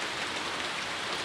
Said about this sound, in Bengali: রিমঝিম বৃষ্টি এবং বৃষ্টিগুলি টিনের উপর পড়তেছে